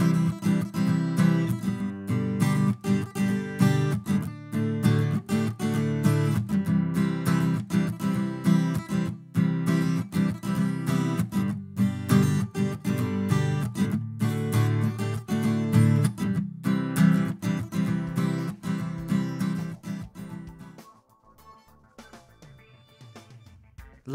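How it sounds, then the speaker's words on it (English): An acoustic guitar is recorded through an AKG 451 small-diaphragm condenser microphone, strummed steadily and fairly loud for about twenty seconds before the playing stops and the last chords ring out. "Here's the sound of an acoustic guitar with an AKJ-451."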